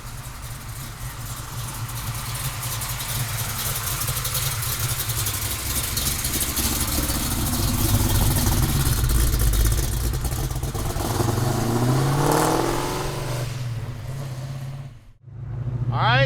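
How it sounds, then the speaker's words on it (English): A 1970 Chevrolet Chevelle convertible with a 572 engine runs steadily with a deep, loud rumble, swells into a rev near the middle, and dips briefly near the end before picking up again. "Let's take this 572 Chevelle Convertible for a ride."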